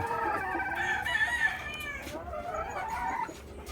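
Roosters crowing among fighting gamecocks at a farm in Tanauan City, with several overlapping crows and clucks close by over a steady background din.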